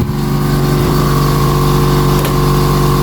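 A Honda Vario 150 scooter engine runs steadily and loudly at close range, a constant even drone with no break and no talking over it.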